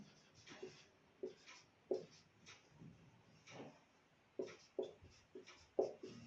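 Pen or chalk scratching out notes during a Hindi-language history lecture, a few short irregular strokes and taps, faint and close, with quiet room tone between them and no talk.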